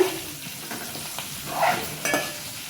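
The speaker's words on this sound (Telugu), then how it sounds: "పసుపు కూడా కాస్త వేగనిద్దాం" Turmeric fries in hot oil in a pan for mango rice (mango pulihora), giving a steady close sizzle with soft stirring scrapes and a couple of louder spoon strokes.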